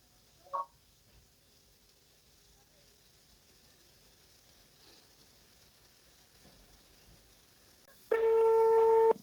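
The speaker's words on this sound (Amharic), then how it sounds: "በቀጥታ እደውልላታለሁ ማለት ነው።" A phone call rings out, a steady repeated electronic tone that comes in loudly near the end after a long quiet stretch with a faint click.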